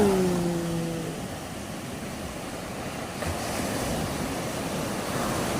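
Steady broadband rush of surf breaking close by, with a brief tonal sound at the start and wind buffeting the microphone throughout.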